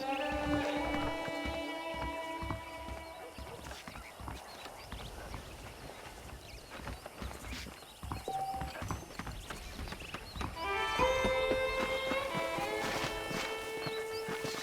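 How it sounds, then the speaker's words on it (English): In the Red Dead Redemption video game, horses walk with an irregular clip-clop of hooves beneath ambient music, moderately quiet and close. "The horses are saddled up over here."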